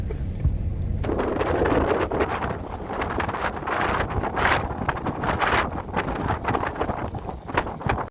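Strong wind blows outdoors on a Shetland island. It buffets the microphone with loud, continuous rumbling gusts and rustling all the way through.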